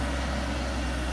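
A Volvo L78 loader works a silage pit, a continuous low diesel drone and rumble held at a steady level, fairly near, with no voices.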